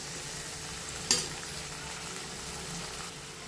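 Green chilies and vegetables with garlic paste sauté in a pan for paneer butter masala, a quiet steady sizzle with one brief clink of a utensil partway through.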